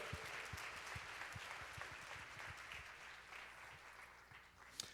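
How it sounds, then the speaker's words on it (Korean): A church congregation at a youth worship service applauds after a prayer, dense sustained clapping from many hands in a large hall, fairly distant and even throughout. "주님 앞에 감사와 영광의 박수를 올려드립시다"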